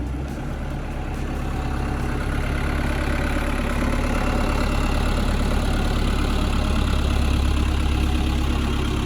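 A Can-Am trike's engine runs steadily and loud at close range, holding a continuous droning rumble as it pulls away.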